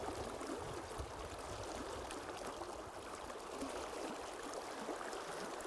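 A shallow riffle on the Lower Shoshone River in Wyoming flows steadily, a continuous broadband rush and babble heard close and unbroken, with no voices.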